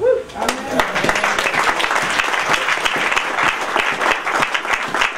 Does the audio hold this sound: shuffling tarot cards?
no